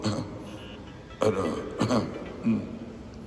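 A few short, throaty coughs sound in quick succession, sharp bursts over a quiet room background.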